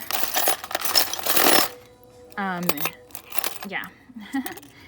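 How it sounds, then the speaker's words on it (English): Metal pieces and keys rattle and clink in a storage drawer, a loud jangling burst at the start, then a person talks. "This one has like metal pieces, like keys."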